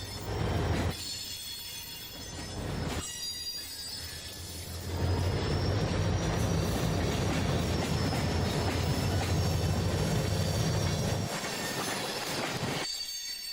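A BNSF freight train with a caboose rolls past with a loud, steady rumble, high wheel squeal and rhythmic rail clatter, continuing for the whole stretch with no voices.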